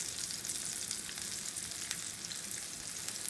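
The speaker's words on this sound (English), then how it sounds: "place that beautiful seasoned fish in this pan and fry my fish beautifully" Seasoned fish fries in a small pan with a continuous soft crackling sizzle and scattered oil pops, steady and unbroken.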